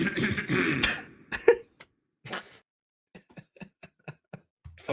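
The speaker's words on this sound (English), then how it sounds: "just seeing you clear your throat" A person clears their throat, a few rough rasping bursts near the start, followed by a string of faint, short clicks and small sounds separated by silence.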